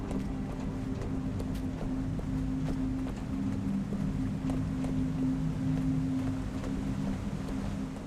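A steady engine hum runs in Guild Wars 2, a low droning tone held evenly throughout with faint airy wind-like noise over it, no voices.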